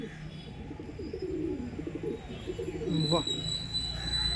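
Madrasi pigeons cooing in a loft, with soft repeated low coos close by, while someone talks over them throughout.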